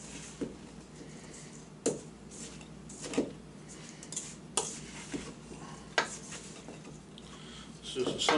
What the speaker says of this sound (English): I'm gonna stir this stuff around.